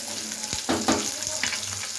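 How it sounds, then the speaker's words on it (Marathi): Onion sautéing in a pan, a close steady sizzle with a few distinct scraping strokes and clatters as the spatula turns the pieces, no voices. "आणि कांद्याला असा परतवायचा आहे।"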